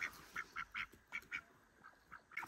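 A call duck quacks in short, sharp bursts while being chased, about a dozen clipped calls in quick irregular succession, fairly close and alone without talk.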